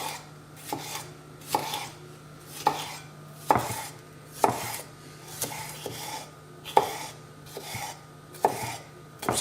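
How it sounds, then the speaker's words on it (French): Knife chopping a red bell pepper into small cubes or diamonds on a board, a steady series of crisp, close taps about once a second, with no talk. "on vient le couper alors soit en petits cubes, soit en petits losanges comme ça"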